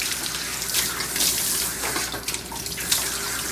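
Steady running water pours from a tap while a dog is washed during grooming, a continuous close hiss and splash with small fluctuations as the stream moves over the coat.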